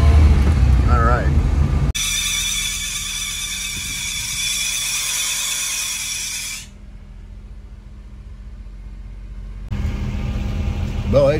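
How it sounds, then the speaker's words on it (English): An aging Suzuki Multicab engine runs with a squealing belt after recent repair work, a bright, sustained whine cutting in over the idling motor for several seconds before dropping away. "we do have a little problem with the belt squealing after yesterday's surgery on the old Multicab"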